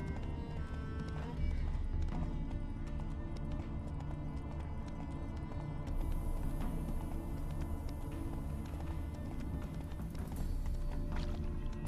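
Roach, a horse in The Witcher 3, gallops with steady clip-clop hoofbeats that continue throughout at moderate volume under game background sound, with a possible faint whinny.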